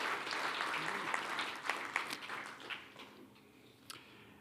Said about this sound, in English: let's have a round of applause for Carl Madsen